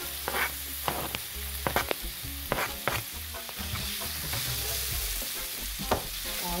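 Peppers fry with caramelized onions in a pan for a vegetable stir fry, a constant close sizzle broken by several sharp scrapes and clacks of a utensil stirring, with no voices.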